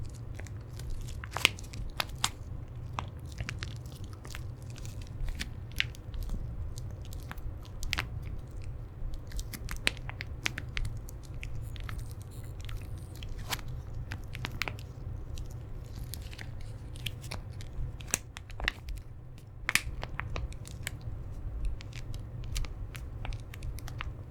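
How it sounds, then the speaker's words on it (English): A thick plastic Ziploc bag crinkled and handled up close, soft crackles and sharp crisp snaps scattered irregularly over a low steady hum, with no voice. "this thick kind of plastic little bag, with a Ziploc seal as well"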